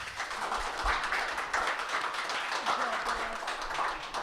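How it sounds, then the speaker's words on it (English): Audience applause for a panel of speakers at a Central Australian eco-fair tourism session, a steady wash of many hands clapping at moderate distance that fills the whole stretch without letup. "Just a round of applause to the panellists"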